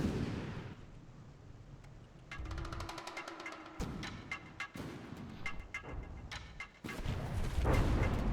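Naval gunfire from a battleship combat video game, with a Saboteur facing an Agincourt at short range: repeated loud booming cannon shots and crackling impacts arrive in bursts over a rumbling background, with no talk.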